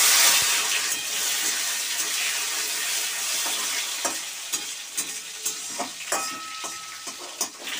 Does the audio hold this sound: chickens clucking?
no